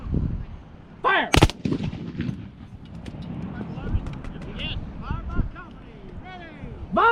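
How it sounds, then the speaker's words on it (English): A Civil War reenactment company fires a musket volley as one sharp, loud crack, surrounded by outdoor crowd noise and shouted voices. "All right, fire by company."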